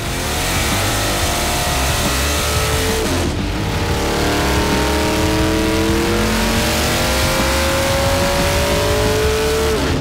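A 509 cubic inch big block Chevy V8 in a Dart build strapped to a dyno, revving hard and loud with rising engine tones that sweep up, drop, and climb again in a long continuous pull.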